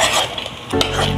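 A spoon stirring and scraping egg curry masala around a hot pan, loud and close, with continuous rubbing strokes, a metallic clink and a light sizzle underneath.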